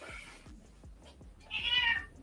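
A house cat gives one clear, drawn-out meow near the end, following a series of soft rhythmic keyboard-like taps in a quiet indoor space.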